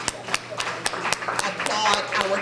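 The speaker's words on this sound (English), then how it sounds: "we especially applaud our consecutive year donors" Applause for donors at a faculty and staff reception, heard as a series of sharp, evenly spaced claps standing out over a steady murmur of voices and room noise.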